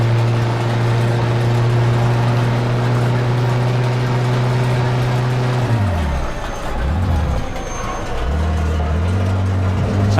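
Steady droning engine hum from a car in the Mafia II video game, driven fast with a missing rear tire, loud and constant, with the pitch dipping and wobbling before climbing back up.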